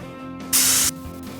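A spray gun lays clear coat on a BMW E92 330i, one short, loud burst of hissing spray lasting under half a second against a quiet workshop background.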